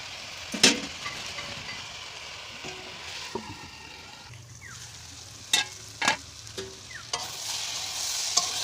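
Cauliflower frying in a pan with turmeric, salt and torn chillies, stirred with a utensil: steady soft sizzle underneath, with several distinct scraping clacks as the pieces are turned.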